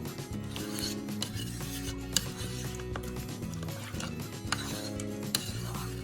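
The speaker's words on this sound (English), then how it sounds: "Go ahead and open up the pot. And give it a good stir." Salsa chicken soup stirred in an opened pressure cooker pot, a steady close scraping and rubbing of a utensil against the metal pot with occasional light clinks, continuous throughout with no talking.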